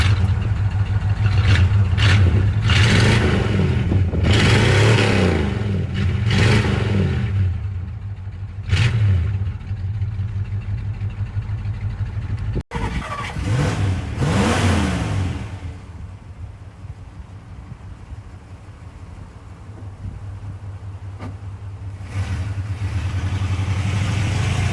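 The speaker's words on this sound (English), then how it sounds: "I'm going to give that a bit of a rev for you because that is when it truly comes to life" A 1960 Plymouth Fury V8 revs loudly and close up, with repeated throttle blips swelling and falling over a steady idle rumble throughout, and no talk.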